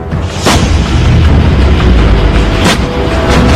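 Lightweight howitzer artillery gun firing, with sharp booming blasts heard three times over a dense, rumbling background, loud and close.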